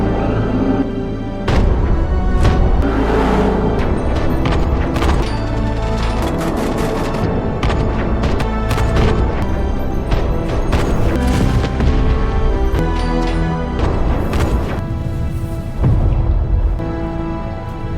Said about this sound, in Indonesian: Mereka memberondong dengan tembakan.